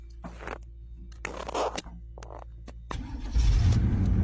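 An old hot rod with an Edelbrock carburetor cranks in short, uneven bursts, then catches and starts into a deep, loud rumbling idle near the end.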